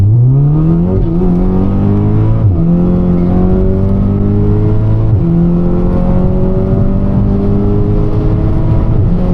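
An Audi S3 accelerating hard, its engine note climbing steadily through successive gear changes with short dips between shifts, loud and close throughout with no talk.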